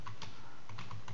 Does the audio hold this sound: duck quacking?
no